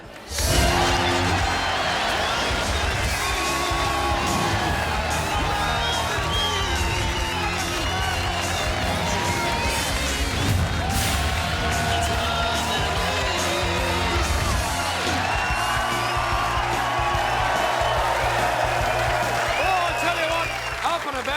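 A studio audience at the Docklands precinct cheers, whoops and applauds in a continuous roar, mixed with loud talk from hosts at a live evening football television show.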